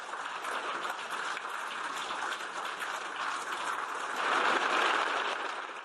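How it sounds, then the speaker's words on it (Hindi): Members of the European Parliament applaud Zelensky with dense, sustained clapping that swells louder near the end, with no talking over it. "यूरोपियन नेताओं ने भी तालियों की गूंज से ज़ेलेंस्की का जोश बढ़ा दिया"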